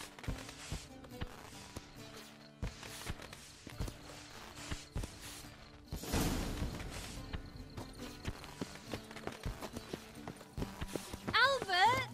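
Rhythmic clip-clop of horse hooves walking in The Witcher 3: Wild Hunt, with music and voices talking over it; a brief whinny-like tone near the end.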